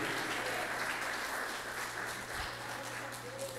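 A church congregation applauds during a sermon, a steady wash of dense clapping that holds evenly for a few seconds at moderate distance, with a low hum underneath.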